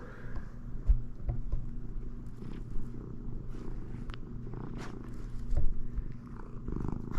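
A cat purrs steadily and close for several seconds, a low rhythmic rumbling with occasional soft bumps and small movement noises, with no talking.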